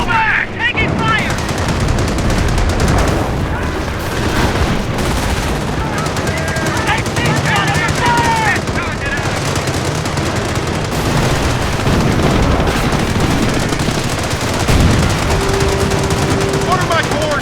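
Dense, loud game gunfire from the Company of Heroes Carentan counterattack mission, with rifles and machine guns rattling continuously, scattered blasts, and soldiers shouting over the battle.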